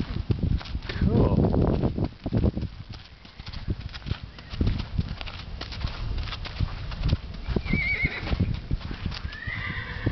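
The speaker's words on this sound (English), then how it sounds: "Finally a horsey place." Horses at a county fairground stall area neigh and whinny, and hooves clip-clop steadily on the ground nearby. People chatter quietly underneath, and the sound is fairly close and continuous.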